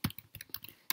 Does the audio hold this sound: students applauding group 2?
no